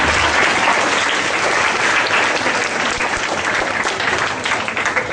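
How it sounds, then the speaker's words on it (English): School audience giving loud, sustained applause for quiz participants, a dense wash of many hands clapping throughout, close and steady with no speech over it. "A big round of applause for all the participants."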